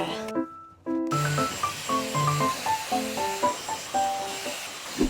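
A hair dryer blows a steady, close whoosh of airy noise that runs throughout, with a voice talking or humming over it.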